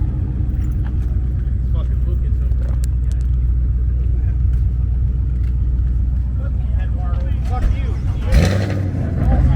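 A deep, throaty Ford Mustang engine and exhaust idles and rumbles steadily up close at a car meet, with a brief rev near the end.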